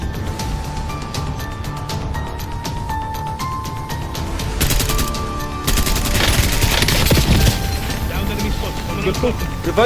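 Rapid automatic gunfire and bursts of shots in the Call of Duty Warzone video game, dense and continuous, intensifying midway, with players talking over it.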